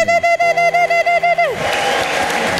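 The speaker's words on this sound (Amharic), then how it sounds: "አጨብጭቡ ከዚህ በላይ" A congregation breaks into applause after a run of pulsed, tonal bursts, the clapping rising into a dense, even wash that holds to the end.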